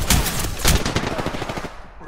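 Rapid bursts of video game weapon gunfire crackle close and loud, one sharp volley giving way to a stuttering run of shots that trail off.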